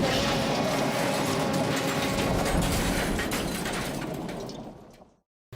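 A Tomy/Trackmaster toy train engine smashes into a brake van in a yard, a loud continuous rattling clatter and crash that fades out over several seconds before cutting to silence.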